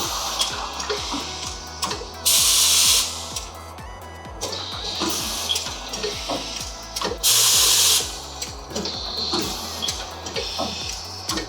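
An 8-spindle multi-spindle automatic lathe with NC cross and front slides runs continuously, a dense mechanical clatter of rapid ticks and cycling whirs, broken by two loud hissing bursts like coolant or air blasts.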